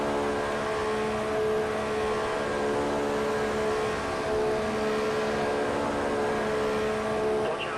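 Formula One cars in the racing game F1 2014 during a race at Malaysia, engines whining loudly and continuously as Ricciardo and Hamilton pass close by, the sound swelling slightly in waves rather than fading away.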